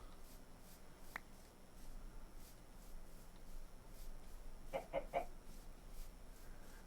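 Chickens in the Minecraft SevTech Ages modpack give a few soft, brief clucks, faint against a quiet steady background hum, with no talking.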